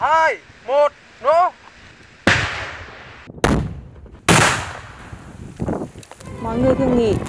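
Several controlled detonations of unexploded bombs and mines in Vietnam: three sharp, heavy blasts roughly a second apart, each with a rumbling tail, following a spoken countdown with voices before and after.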